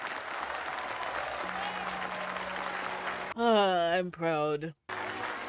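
Crowd applause in a film scene runs as a steady clapping bed, then a voice cuts in loudly over it and briefly drowns it before the clapping resumes.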